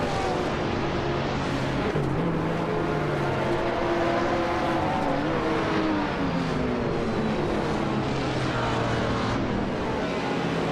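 Race cars in a video game roar at full throttle, engine tones climbing and falling as they shift and jostle, forming a steady loud drone with no one speaking.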